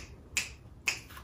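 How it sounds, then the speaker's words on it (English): Two crisp finger snaps ring out about half a second apart, close and clear against a quiet indoor background. "snap your fingers"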